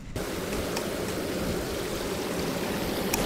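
Flowing stream water feeding a small hydro turbine after heavy rain, a steady, broadband rushing and gurgling that is close and continuous, with no voices.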